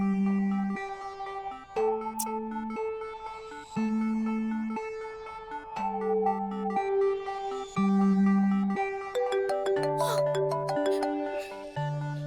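A phone rings with a repeating electronic melody of steady tonal beeps in a regular pattern, moderately loud and close, with no talking over it.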